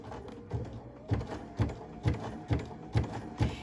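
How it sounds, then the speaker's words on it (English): A Baby Lock sashiko quilting machine stitches through fabric with a steady mechanical clatter, about two stitches per second, each a soft thumping knock, close and alone with no talk. "And then I'll sew right off the edge."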